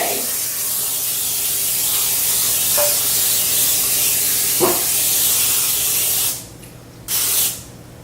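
Cooking spray hisses onto a Pyrex baking dish for brownies in one long continuous burst, loud and close, then two short final sprays after a brief pause.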